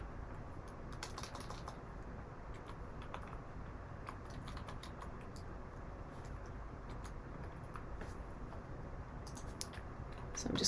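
Steady typing on a computer keyboard while entering billing inventory details, a continuous quiet patter of key presses with occasional louder clusters and no talk.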